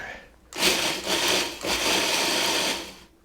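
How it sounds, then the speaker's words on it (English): A food processor chopping oats, sugar and flour for an apple pie streusel, two loud whirring bursts separated by a short break, ending abruptly, no talk. "Just want to chop the oats up, and let's throw the flour in too."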